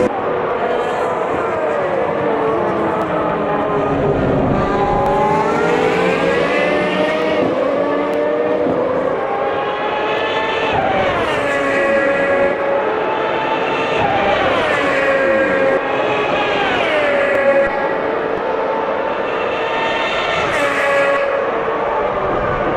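A HiTech Gen 1 F1 car, the number 2 McLaren MP4, racing at Interlagos in Automobilista 2, with a loud, continuous high-revving engine whine rising and falling through gear changes and corners.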